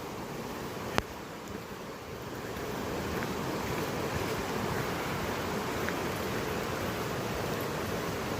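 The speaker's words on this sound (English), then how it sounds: "it is raining quite heavily at the moment" Steady, heavy rainfall hisses continuously with wind rushing over the microphone, one faint click early on, no voices, during a winter walk at Devil's Glen, County Wicklow, Ireland.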